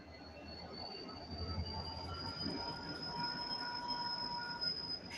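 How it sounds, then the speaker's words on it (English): Diesel locomotive train rolling past at a model railroad meet, with a sustained high-pitched wheel squeal over a steady rail rumble, moderately distant and without talk. "guy's about to get into a diesel locomotive"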